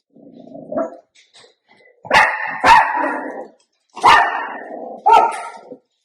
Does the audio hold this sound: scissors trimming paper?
no